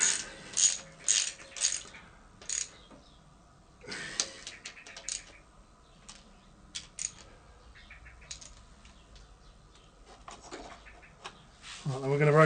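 A ratchet wrench tightens engine bolts on a classic Audi during head gasket work, giving short bursts of clicking at an even pace, close and fairly quiet, with pauses between the bolts.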